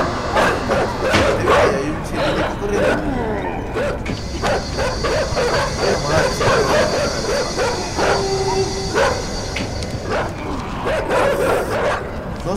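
Dogs in the video game Inside bark and yip amid dense, busy game sound with mechanical clanks and ratcheting, the barks mixed into a constant loud bed.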